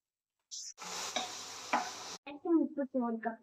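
Chopped onion and garlic hit hot ghee with a sudden loud sizzle that holds for over a second. Softer clinks of a spoon against the pan and brief stirring sounds follow.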